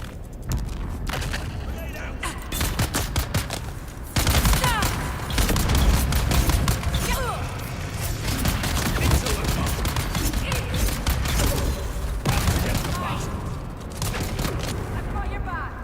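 Dense, continuous gunfire in the video game Dune Awakening, rapid shots and impacts layered over loud game action with little pause throughout.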